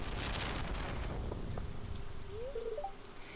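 Steady rain falls in the Stardew Valley video game, a continuous wash of hiss with a few soft game chimes and tones rising faintly over it.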